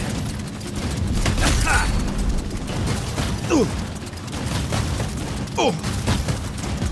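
Rapid gunfire crackles through a Saints Row convoy shootout, bursts of shots over a steady mechanical rumble, with a man briefly exclaiming under the noise.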